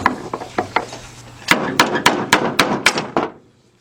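A hammer knocks a seal out of an engine's metal timing cover in a run of sharp, close blows, a few spaced strikes first, then a quicker steady series that stops abruptly.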